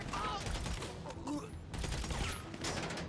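Gunfire rings out in GTA 5 online multiplayer, with bursts of shots and mechanical clatter mixed under players' talk in the foreground.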